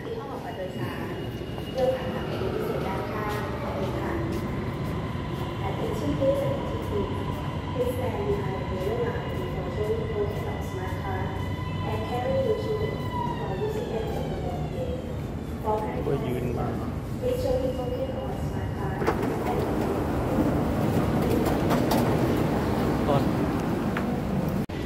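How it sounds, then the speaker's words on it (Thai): A subway train rolls into an underground station in Bangkok, a rising then falling mechanical whine with rumbling wheels, continuing steadily for most of the clip amid echoing platform noise. "รถไฟมาพอดี"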